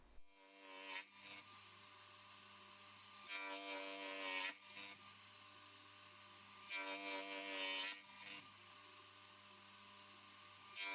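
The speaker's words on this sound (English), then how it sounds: "I'm lucky enough to have a radial arm saw that takes a stacked dado cutter, so I'm just using that basically just to make the half lap." Radial arm saw fitted with a stacked dado cutter, spinning with a steady motor tone, then twice biting into wood to cut half laps with loud rasping bursts of a second or more. Each cut drops back to the motor hum.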